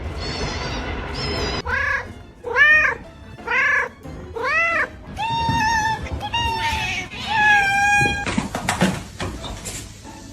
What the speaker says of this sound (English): my cat is not liking it at all